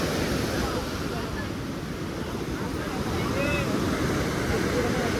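Sea waves on the Kerala coast wash and roll continuously with strong wind rumble buffeting the microphone.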